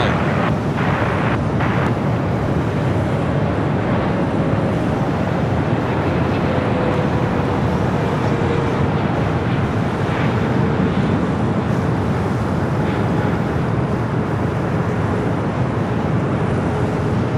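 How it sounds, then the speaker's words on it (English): A China Airlines Boeing 777-300ER from Taipei arriving at Los Angeles International Airport, a loud sustained jet roar mixed with heavy wind buffeting the microphone, steady throughout. "Flight A coming from Taipei, 777-300ER."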